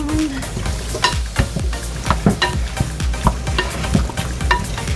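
Chicken wings being stirred with salt in a bowl, giving a run of wet, scraping clacks and soft squelches at an irregular rhythm, close and fairly quiet with no talk.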